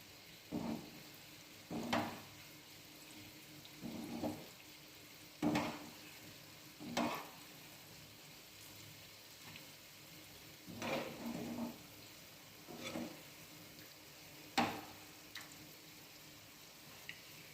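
Dahi vada batter balls frying in hot oil, a soft continuous sizzle broken by about a dozen brief scraping stirs at irregular intervals.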